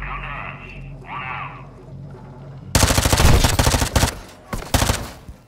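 Bursts of automatic gunfire in Call of Duty Modern Warfare 2 follow a few seconds of muffled radio-style game dialogue, then loud rapid volleys erupt, pause briefly and resume close up.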